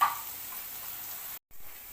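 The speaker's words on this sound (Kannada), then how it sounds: "ಕಾಯಿ ತುರಿದಿರೋದನ್ನ ಈ ಥರ ಸ್ವಲ್ಪ ತುರಿದಿರೋ ಕಾಯಿನ ಸ್ವಲ್ಪ ಈ ಥರ ಫ್ರೈ ಮಾಡ್ಕೋಬೇಕು" Grated coconut frying in oil in a pan for a Mangalore-style chicken sukka, a soft steady sizzle close by that drops out briefly near the end.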